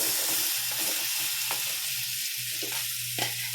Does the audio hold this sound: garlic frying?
yes